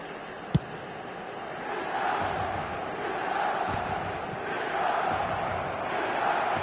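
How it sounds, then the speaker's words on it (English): A football stadium crowd roars in a broad, distant swell of cheering that rises and falls, with a single sharp clap near the start. "Certainly gave this crowd something to really cheer about."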